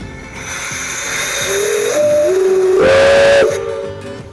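A loud steam whistle sounds close by, rising in short steps and then holding a long shrill blast over a constant hiss of steam.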